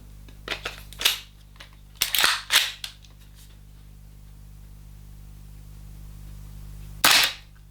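Sharp shots from an Acetech Quark R airsoft shotgun with tracer crack close by: a quick cluster of pops, a pause, another tight burst, then a single louder shot after a stretch of quiet.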